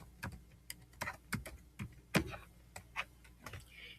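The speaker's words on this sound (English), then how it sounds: "I'll type in the name of it and then a quick description" Typing on a computer keyboard: scattered, close, quiet key clicks in an uneven rhythm, with a few firmer taps, in a quiet room and with no talk.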